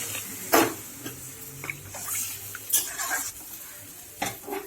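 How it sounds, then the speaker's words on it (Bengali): Spiced water splashes into frying masala in a pan, giving bursts of hissing sizzle and clatter with quieter bubbling between them. "এবার আমি জল দিয়ে দেবো, মশলা দেওয়া জলটা"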